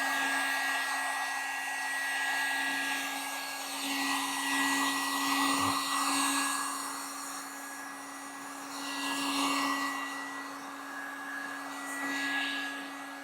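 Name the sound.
Harbor Freight Warrior heat gun heating metal garden bed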